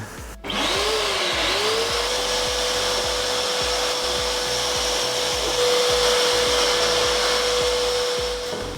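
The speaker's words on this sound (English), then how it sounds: "let's give this a quick hoover off, get rid of the last few little bits" A vacuum cleaner runs steadily and loud after a short start-up, hoovering debris off the hardtop headliner of a Fiat Barchetta, its motor whine holding a constant pitch with slight shifts as the nozzle moves.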